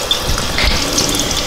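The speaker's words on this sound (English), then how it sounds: "And it's time to shut off the water." A kitchen tap runs into a bucket while fleece is rinsed in cold water, giving a brief, loud, steady splashing gush close by.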